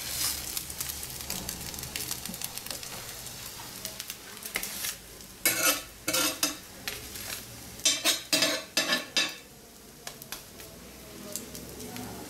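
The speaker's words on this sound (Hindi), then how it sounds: "थोड़ा सा घी लगा के सेक लें।" An egg paratha roasting with ghee on a hot griddle, a continuous sizzle broken by scraping and clinking of a spatula against the pan, close and moderately loud.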